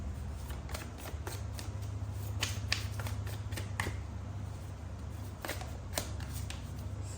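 Tarot cards being shuffled and drawn, a rapid run of crisp riffling snaps and flicks with short pauses between bursts, close and fairly quiet, no talking.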